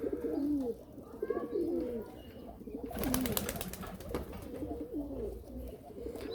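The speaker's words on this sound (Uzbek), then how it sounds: "Mana u nar sayrayotgan" A male pigeon coos repeatedly in short rolling phrases, fairly close, with a burst of rustling or flapping partway through.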